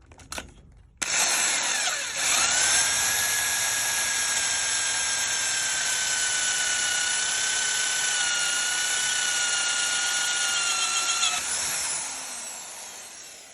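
A power drill with a hole saw bores through a 1.5 mm AISI 201 stainless steel sheet, giving a loud, steady high-pitched whine with a grinding edge that holds for about ten seconds before winding down.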